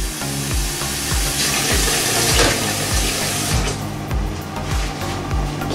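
Water pours and splashes into a pot of chickpea and salt cod stew, a steady close rushing flow with faint clinks from the pot, alone without talk.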